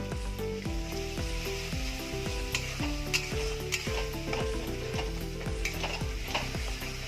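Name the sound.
spice paste (masala) being fried and stirred in oil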